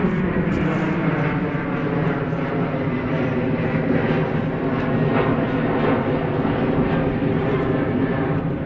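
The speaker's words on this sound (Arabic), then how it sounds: "طيارة قلعات." A loud, continuous jet engine roar fills the air at full power, steady and rumbling throughout, like an airplane taking off nearby.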